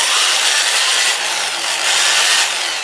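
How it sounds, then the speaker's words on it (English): Sandpaper is rubbed by hand against the ends of a wooden piece on a lathe, producing a steady, close, loud rasping hiss that swells slightly in repeated strokes. "And what I'll do on the inside is just sand these ends like this."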